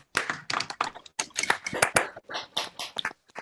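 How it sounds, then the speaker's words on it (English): Online meeting participants clap after a live music performance, a loose, uneven scatter of individual hand claps coming through unmuted microphones, close and fairly quiet. "can we all unmute and do a round of applause?"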